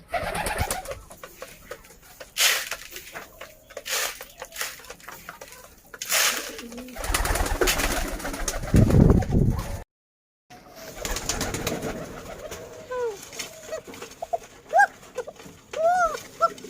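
Pigeons coo repeatedly in a home loft, soft throaty calls recurring through the clip alongside other bird sounds, with a brief gap of silence midway.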